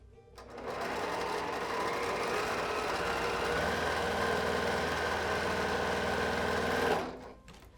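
A sewing machine runs one steady stitching pass along the final seam of a quilt block. The close whirring drone holds evenly for about six seconds, then stops, with no talk over it.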